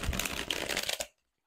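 Bendy, scratch-resistant cardstock tarot cards riffle shuffled by hand, a dense fluttering burr of about one second that ends abruptly in silence.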